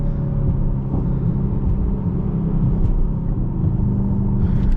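A 2026 Aston Martin DBX S twin-turbo engine pulls hard under acceleration, a dense, loud, continuous low rumble and road roar heard from inside the cabin.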